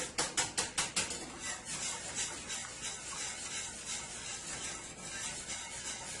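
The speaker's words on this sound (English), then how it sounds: "And I am going to give this a whisk." A whisk clatters rapidly against a metal pot of milk with nutmeg, a few sharp strokes at first, then a steady scraping, swishing rhythm throughout.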